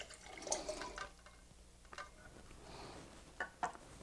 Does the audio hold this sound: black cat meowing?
no